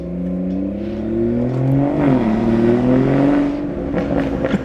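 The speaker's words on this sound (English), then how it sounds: "I'm gonna get you guys some engine bay noises and some revs, some stationary revs and whatnot so you can hear it" A BMW F30 with a B58 engine and an MST Performance intake revs while parked, its loud, droning note climbing and falling in smooth sweeps, close and continuous, with no voices over it.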